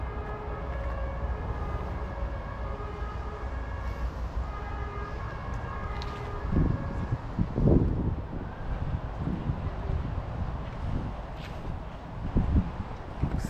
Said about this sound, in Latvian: Jā, ārā patīkams vējiņš pūš.